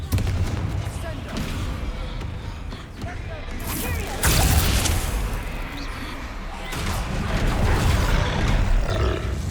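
A troll roars and grunts in Hogwarts Legacy, deep bellows mixed with loud blasts and crashes of spell combat, coming in bursts of varying intensity.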